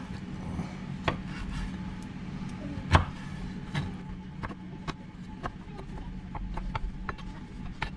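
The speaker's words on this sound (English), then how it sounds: "Take the pips out and chop them up into small pieces." A knife chops pitted wild plums into small pieces on a board, a series of sharp irregular taps, some quick and clustered, one louder strike near the middle, close up over faint background noise.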